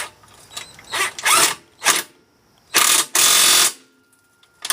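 A ratchet wrench works on the rear differential of a Can-Am Outlander, giving several loud, close bursts of rapid ratcheting separated by short silences.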